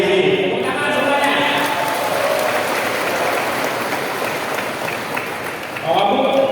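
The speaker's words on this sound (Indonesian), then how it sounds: "Tepuk tangan semuanya." A large crowd of about 1,500 people at a political rally claps continuously in a dense, steady roar of applause, with a voice speaking over it at the start and end.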